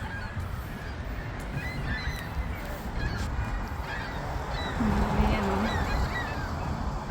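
Noisy birds, including goose-like honking, call over a busy outdoor backdrop as the sky darkens during an eclipse, with a person speaking briefly nearby.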